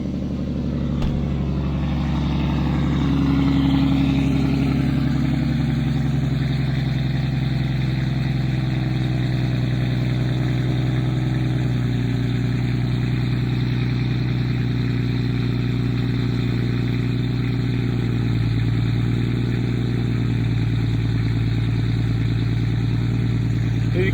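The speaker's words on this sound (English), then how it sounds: "I love what this motor sounds like." A car engine idling steadily after an ABS delete build, a loud, even rumble close up that holds for the full length with no talking.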